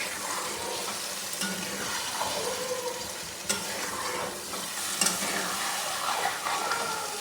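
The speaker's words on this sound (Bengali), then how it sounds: "মাংসটা আমি দিয়ে এবার ভালো করে কষিয়ে নেব।" Chicken pieces fry in a pan while being stirred, a continuous sizzle broken by scraping strokes and a few sharp clinks of the utensil against the pan, fairly close, with no talk.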